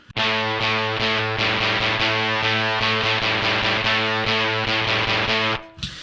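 Electric guitar through an Abracadabra drive pedal on its own: loud, sustained distorted chords ringing steadily for over five seconds before cutting off.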